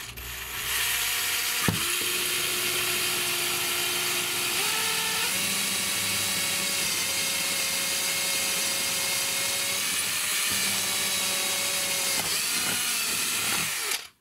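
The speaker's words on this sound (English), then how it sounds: "I'm going to use the smaller drill to do this initial hole" A small cordless drill whirs steadily for several seconds, its pitch shifting slightly as it bites through a model railway baseboard, then stops.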